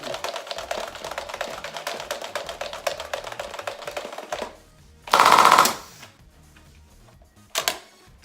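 An ODST MA5 toy blaster with a stock spring fires foam darts, producing a long rapid run of sharp mechanical clicks, then a short loud burst and a final quick clatter.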